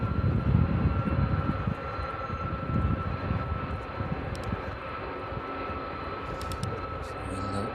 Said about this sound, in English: this A300 makes its way down to runway 27 this evening